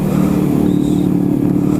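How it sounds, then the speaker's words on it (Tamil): Exhaust note of a restored Rajdoot 350 motorcycle engine, a close, steady idle with a low throbbing pulse for just under two seconds. "ஸோ ஒரு எக்ஸாஸ்ட் நோட்டு,"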